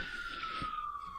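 An emergency siren wails outdoors, one long, slowly falling tone that stays fairly loud and steady with no talk over it.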